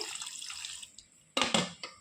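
A short splash of water poured into a mixer jar with raw mango, pepper, sugar and salt for juice, two quick bursts after a brief quiet stretch.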